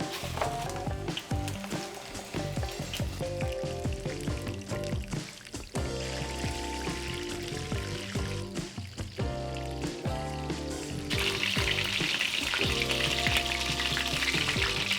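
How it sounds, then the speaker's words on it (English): Coated chicken lollipops pan frying in oil, a steady close sizzle running throughout with music playing over it and no talk. "now that they're well coated, we're gonna go ahead and pan fry them"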